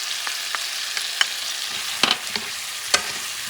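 Garlic and corn sizzle in a pot for a native bison stew (sancocho), with a steady frying hiss broken by several sharp scraping stirs, close and fairly loud, no talking.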